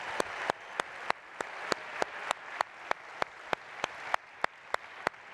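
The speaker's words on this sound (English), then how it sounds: "Let's give Tom Golisano and his team a round of applause for believing in Buffalo." Quiet crowd applause at a startup competition finals in Buffalo, a soft continuous patter from the audience, punctuated by a steady series of sharp, regularly spaced claps close by.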